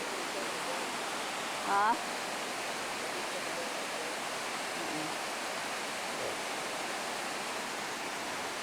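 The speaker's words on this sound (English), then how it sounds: "This is the banks of the Golly River." Steady broadband rushing of the Golly River flowing below a dam, a constant even roar throughout, with one brief spoken word near the start.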